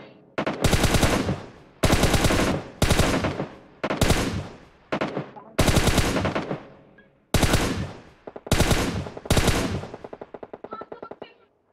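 Automatic gunfire in the mobile game BGMI comes as about nine loud, rapid bursts, each a rattling volley separated by short pauses.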